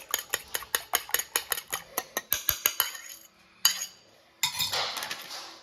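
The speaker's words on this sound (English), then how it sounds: "I'm going to add a splash of milk. Just a splash." A fork whisks egg and milk in a bowl, rapid rhythmic metallic clinks against the side that slow and pause, then a brief burst of clinking and a swishing stir, close and alone.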